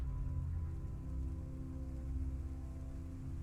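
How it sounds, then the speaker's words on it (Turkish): Rain falling steadily in an experimental indie video game world, a continuous soft hiss of drops with low rumbling ambience, even and fairly quiet throughout, with no voices. "Bak yağmur yağmaya başladı."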